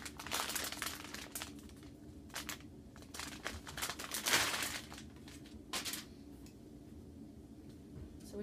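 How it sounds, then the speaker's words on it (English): Fiberglass casting material being cut for a radial gutter splint, a close, quiet run of crinkly, crunching snips and rustles with a few sharper bursts, no talking. "we'll go ahead and cut our fiberglass"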